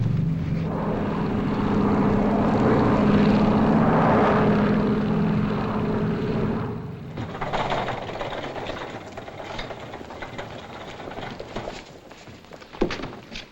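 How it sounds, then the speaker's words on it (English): A propeller airplane in a 1952 film, a steady loud engine drone that eases down partway through into a rougher, lower rumble with scattered clatter, as on a landing approach. "We're in the landing pattern now."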